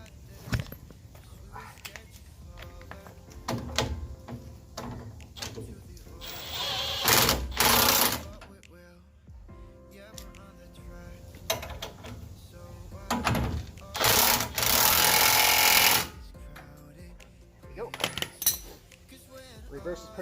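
A power tool buzzes in short whirring bursts as a nut is tightened on a 2015 Ram 1500 suspension during a leveling kit install, with clinks of metal and someone talking throughout.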